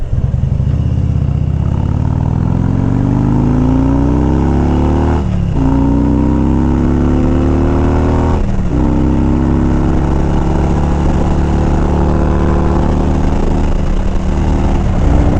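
A motorcycle ridden with no windshield roars along, the engine note rising through several gear changes over steady wind rush, close and loud throughout.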